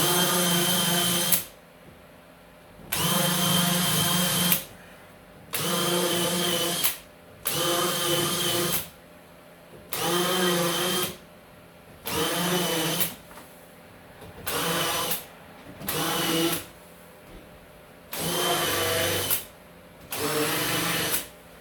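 A drill with a magnetic collar and countersink bit drives screws into a door lining. About ten loud, close whirring bursts of a second or so each are separated by short quiet pauses, with no talking.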